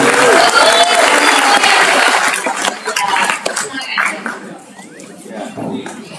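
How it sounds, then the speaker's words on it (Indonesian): Audience at a talk on women and corruption bursts into applause for the people who asked questions; the clapping is loud at first, then thins and fades while voices and chuckles carry on. "Kasih tepuk tangan dong buat yang bertanya"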